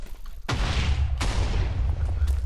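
Cannon fire in a real-time strategy game match on the Bamboo Valley map: two sharp booming blasts about three quarters of a second apart, each trailing into a rumbling roar over low battle noise.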